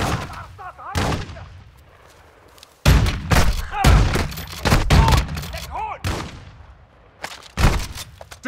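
Gunfire in a shooter video game, with scattered loud shots and bursts mixed among voices talking over radio chatter.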